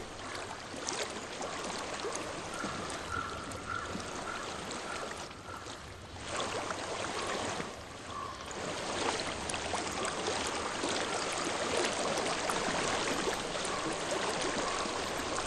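Steady broadband rushing of a flowing stream in the video game Hellblade: Senua's Sacrifice, continuous and fairly close, with a faint tonal hum running underneath.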